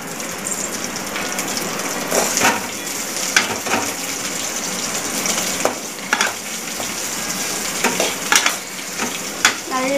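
Cabbage, beans and carrot stir-fry in a pan, with a constant sizzle broken by repeated sharp scrapes and clatters of a spatula against the metal.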